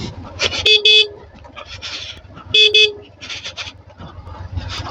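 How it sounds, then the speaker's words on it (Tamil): A car horn honks twice in short double blasts on a hill road near Polumalai fort, loud and nearby over the engine hum of a passing vehicle, with faint road noise between the toots, heard during a Yamaha R15 V2 motorcycle ride. "ஹார்ன் அடிச்சுட்டு போகுது, சேஃப்."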